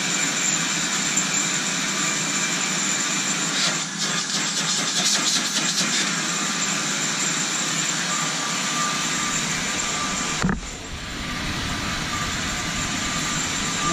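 A two-speed Delphin water-filtration vacuum cleaner runs with a loud, steady motor roar and whine, close by, shifting abruptly in tone near the end as if switched to another speed.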